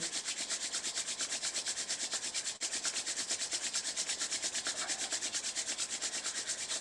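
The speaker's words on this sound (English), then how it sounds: "Rub the palms one more time." Palms rubbing briskly together during a yoga session, a steady rhythmic swishing of skin on skin repeated many times, close and fairly quiet with no talking.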